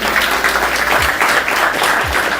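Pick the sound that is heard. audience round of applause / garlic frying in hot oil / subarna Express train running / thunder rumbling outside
audience round of applause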